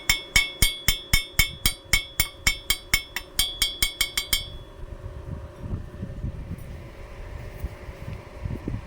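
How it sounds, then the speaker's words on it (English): A special hammer chips welding slag off a steel weld in a rapid, even run of about sixteen sharp metallic clinks close by, then stops, leaving a low mechanical hum. "Use a special hammer to clean the slag."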